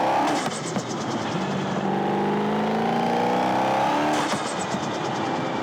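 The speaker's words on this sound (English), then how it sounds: "That blow-off valve is so beautiful." A car in a racing video game revs its engine in a steady, loud drone, broken by sharp hissing blow-off valve bursts near the start and again around four seconds in.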